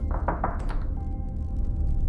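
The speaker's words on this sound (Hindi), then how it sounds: "तभी बोर्डरूम के भारी ओकवुड दरवाजे पर दस्तक हुई।" A few dull knocks on a heavy oak boardroom door, clustered close together at the start, then a quiet room hum.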